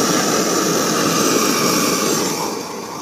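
A propane burner roars steadily inside a portable flat-pack fiber kiln during a pottery bisque firing, a loud, continuous broadband rush with no pauses.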